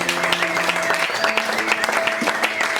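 Church congregation clapping in praise during a worship service, sustained loud applause with overlapping tones and voices calling out over it.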